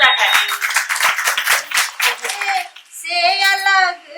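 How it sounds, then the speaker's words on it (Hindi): Sharp, close hand claps from an audience at an International Women's Day event ring out for a couple of seconds. A voice follows with sustained, tonal, song-like sounds. "तो एक बार फिर से इनके लिए जोरदार ताली।"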